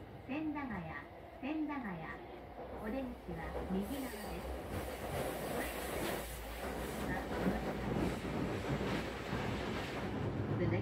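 A Tokyo commuter train runs between stations, its steady rolling rumble and wheel noise filling the carriage, with a recorded announcement voice speaking over the start.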